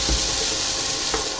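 Onion pieces drop into hot oil with cumin and sizzle, a loud, continuous frying hiss with brief bursts of crackle as the pieces land.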